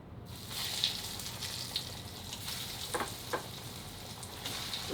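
Green tomatoes frying in hot oil give a steady, close sizzle with scattered crackles and a few sharper pops.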